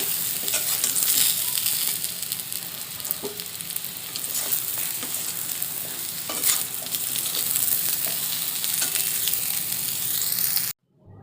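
Pieces of pointed gourd (potol) frying red in hot oil give a dense, continuous loud sizzle with faint stirring crackles throughout, close up and with no voice, before cutting off abruptly near the end.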